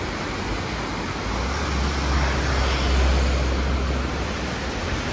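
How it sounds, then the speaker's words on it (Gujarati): Loud, continuous roar of fast rushing water near Agastyamuni, Uttarakhand, broad and unbroken, with a deep rumble throughout and no voices. "જો જે પાણી છે ને અવાજ સંભળાતો હશે"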